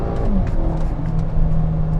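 A VW GTI fitted with a Cobb Accessport pulls at full throttle after a downshift, a loud, close, steady engine drone with a rising tone and no talk.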